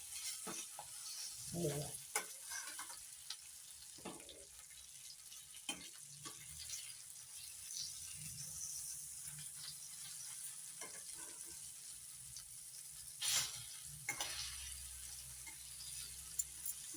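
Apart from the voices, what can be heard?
mackerel (bangda) frying in oil in a pan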